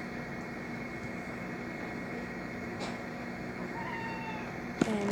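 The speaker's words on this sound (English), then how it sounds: "that's my cat." A pet cat meows a couple of times over a steady background hum, the calls fairly faint and then a sharper, louder one right at the end.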